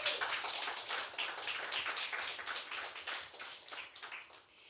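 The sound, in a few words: audience applause for the writers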